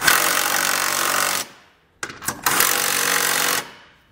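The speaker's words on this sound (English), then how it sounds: "we're going to take our 17 millimeter socket. We're going to snug up the two bolts on the bottom." A power tool drives a 17 mm socket to snug the lower bolts of a Curt trailer hitch receiver on a 2021 Hyundai Palisade. Two loud, steady bursts of whirring and hammering are split by a brief pause with a few short blips.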